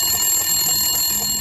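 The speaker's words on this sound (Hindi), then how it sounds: "टेलीफोन की घंटी बजना शुरू हुई।" A telephone bell rings steadily and loudly for the whole moment, a continuous bright ringing with no voices over it.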